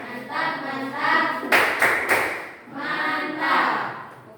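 A classroom group of students claps together in three sharp bursts of rhythmic clapping, set between stretches of spoken chanting.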